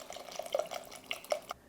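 Chicken bone broth pours into a soup pot, a short liquid splash and glugging trickle with a few brighter drips, close and fairly clear, ending abruptly.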